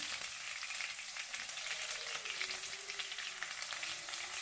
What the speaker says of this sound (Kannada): ಕರ್ಬೇವಿನ ಸೊಪ್ಪು ಮತ್ತು ಈರುಳ್ಳಿ ಹಾಕೊಂತ ಇದ್ದೀನಿ